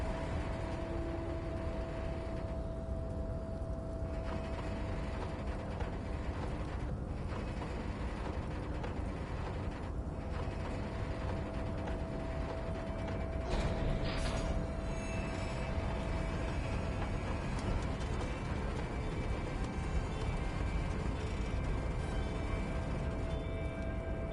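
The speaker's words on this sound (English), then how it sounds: "With a loud grind, the crane shifts overhead, moving a massive metal container through the air" A harbor crane in Disco Elysium grinds and rumbles overhead as it hauls a massive metal container through the air, a steady mechanical drone with clanking and ratcheting over a continuous low hum.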